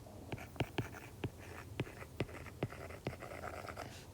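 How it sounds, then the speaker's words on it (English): Numbers written by hand with a pen on paper, close up: a series of short, crisp strokes and taps at an uneven pace over a soft background hiss. "So I'm going to write that."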